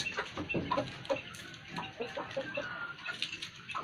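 Hens cluck in a backyard coop, several short close clucks in an uneven rhythm over a faint background hiss, quiet overall.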